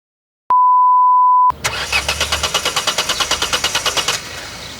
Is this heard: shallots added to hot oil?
no